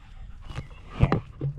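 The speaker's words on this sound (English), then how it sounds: "A German Shepherd and a cattle dog." A German Shepherd and a cattle dog pant close by in a few quick, breathy bursts over a short moment, with faint shuffling in the background.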